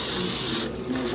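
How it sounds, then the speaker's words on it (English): A can of cooking spray hisses onto paper in one loud, close, broad burst that cuts off after about half a second, then gives a faint short puff. "So I'm gonna spray a little bit on there so that so it won't be sticky"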